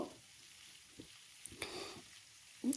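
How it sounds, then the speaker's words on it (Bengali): Stalks of Katwa data and potatoes are stirred slowly in a sizzling frying pan for a sweet pumpkin chorchori: a steady low fry hiss, broken by a few scraping stirs of the spatula, and no talking. "সবগুলোকে আমি আস্তে আস্তে নাড়াচাড়া করে নেব"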